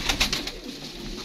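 A pigeon on a rooftop loft in Faisalabad coos in a brief, soft, low burst, close by with no talk over it.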